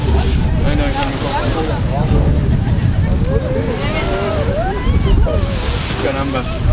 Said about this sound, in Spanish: Las olas aquí vamos para arriba y para abajo